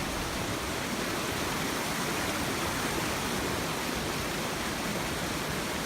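Fast-moving shallow stream water near Donut Falls rushes continuously over rocks, a dense, steady broadband roar that stays close and even throughout, with no voices.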